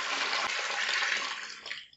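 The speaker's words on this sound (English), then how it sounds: "We are going to add more water to this," Water pours steadily onto white towels being washed by hand in a basin, a loud continuous splashing rush that tapers off and stops after about two seconds.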